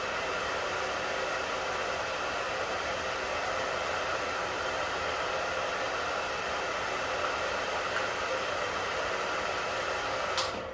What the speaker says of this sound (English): I'm going to turn the hair dryer off.